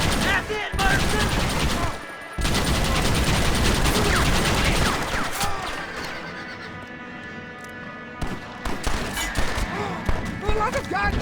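Gunfire in the Red Dead Redemption video game rattles among horse whinnies and hoofbeats, with loud dense bursts, brief gaps and shouting voices over the action.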